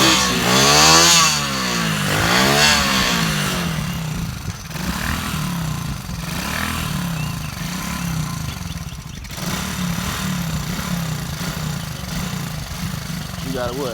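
Four-wheeler or dirt bike engine running nearby, a rough buzzing idle with a couple of revs early on, steady and loud under people chatting.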